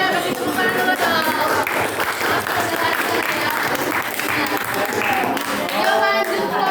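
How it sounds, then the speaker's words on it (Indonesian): A high school class in a classroom applauds a student group after their presentation, a sustained round of many hands clapping at fairly high volume, with voices and chatter mixed in throughout. "kasih tepuk tangan dulu dong"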